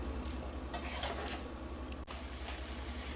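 Chickpeas with dried mango powder roasting in a pan, a soft continuous sizzle with occasional scraping stirs and a light clink of utensils, fairly quiet and close, no talking.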